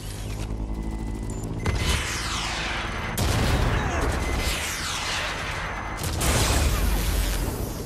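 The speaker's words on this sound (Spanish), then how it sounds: "¿Quién me está disparando?" Gunfire in the video game Watch Dogs: Legion during an aerial battle at the Millennium Wheel, with loud, dense bursts of shots and booms layered over continuous game noise and mechanical rumble.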